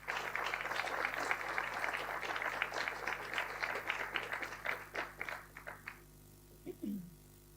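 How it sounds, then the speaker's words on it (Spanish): An audience at a forum on migration in Chile claps for several seconds, the applause thinning into scattered claps and stopping, followed by a brief voice. "Un aplauso, por favor"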